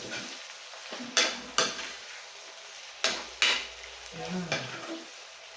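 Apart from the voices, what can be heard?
corned beef frying and being stirred in a pan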